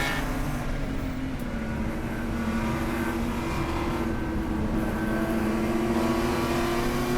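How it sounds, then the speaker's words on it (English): A race car engine at steady partial throttle on the Lime Rock Park circuit during a Gridlife GLTC race, poorly tuned, a continuous droning buzz with slight pitch wavering, heard closely with no other sounds. "You can hear the throttle, the partial throttle."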